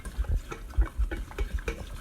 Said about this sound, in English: You pour it in. And you mix.